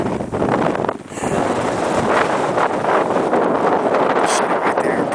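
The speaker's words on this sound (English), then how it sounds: "Cold, windy night." Loud, roaring wind buffets the microphone in continuous heavy gusts on a cold night at 14,000-foot camp on Denali's West Buttress, with no voices.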